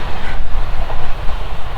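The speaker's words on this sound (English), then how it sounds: "Oh, it's a train coming." A train rumbles past close by on a mountain line, loud and continuous, with a steady rolling clatter of wheels on track and no voices.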